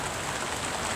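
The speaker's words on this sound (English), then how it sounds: "And it's raining," Steady, dense patter of rain falls outdoors by a garage at an off-grid cabin, a short continuous hiss with no voices.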